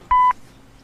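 One short telephone keypad dialing tone sounds alone, clean and steady, and cuts off sharply.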